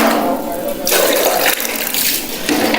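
Camphor water poured over a body during a ritual funeral washing, a steady splashing pour running loud and continuous with brief surges, a voice faintly under it.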